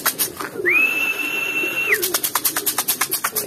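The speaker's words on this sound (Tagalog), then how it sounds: "Nagbabaan na rin yung mga ibang ibon natin." Racing pigeons coming down to land, with a long steady whistle followed by a quick run of rhythmic fluttering pulses, close and fairly loud with no talking.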